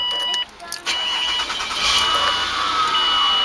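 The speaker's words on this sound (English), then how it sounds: "when you want to start your car up" A 2000 Mazda MPV LX engine cranks and catches at close range, then settles into a steady running hum.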